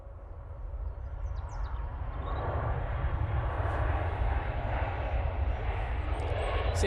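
An airliner at Manchester Airport gives a steady, broad engine roar with a deep rumble that slowly swells louder over several seconds, heard from a distance with no talk over it.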